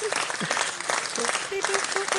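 Soundboard clapping effect played in a live online audio space: a dense, continuous burst of applause, fairly loud, with faint voice-like tones mixed in.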